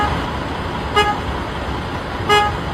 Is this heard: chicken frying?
no